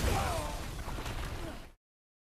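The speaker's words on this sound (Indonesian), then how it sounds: "Tiba-tiba mereka mendapatkan serangan granat dari kelompok Firefly." A grenade blast sound effect in a zombie film: a short, loud burst with a whooshing, crashing tail that fades out abruptly.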